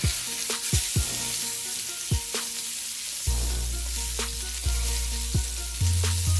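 Salmon skin sears loudly in a hot pan, a constant sizzle broken by sharp spits and pops.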